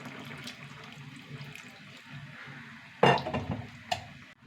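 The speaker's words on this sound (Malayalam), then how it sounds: "ഇതിലേക്ക് പുളി ഒഴിച്ച് കൊടുക്കുക." Tamarind water poured into a simmering curry pot, a soft liquid trickle over low background noise that turns into a louder splash partway through, with a brief clink near the end.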